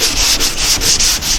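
Primer on a truck bed being sanded by hand with 400 grit sandpaper, close and loud, in rhythmic back-and-forth strokes of raspy scraping.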